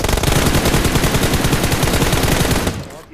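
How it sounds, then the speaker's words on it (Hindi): Sustained rapid automatic gunfire in the mobile battle royale game PUBG Mobile, loud and dense bursts for nearly three seconds before tapering off, with no talking. "यहाँ पे जैसे मैं आया लेफ्ट साइड से भी फायर हुआ"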